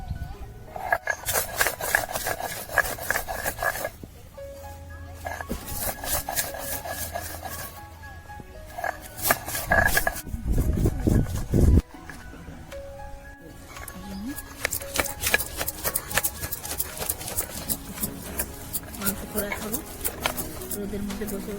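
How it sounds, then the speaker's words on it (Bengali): Ginger is ground into paste by hand on a stone in a village setting, a repeated rough rubbing and grinding in bursts, close, with birds in the background and a pause midway. "আদাটা এবার বেটে নেব।"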